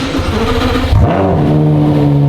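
A car engine cranks and catches, then revs up in a rising, loud vroom and settles into a steady, close idle hum, with no talking over it.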